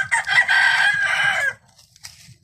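A rooster among free-roaming backyard chickens crows once, loud and close, a drawn-out call of about one and a half seconds, followed by faint clucking and quiet rustling.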